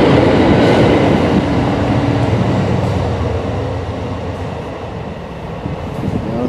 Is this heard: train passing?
yes